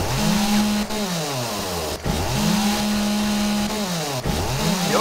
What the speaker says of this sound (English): The only downside about the chainsaw is it makes all that noise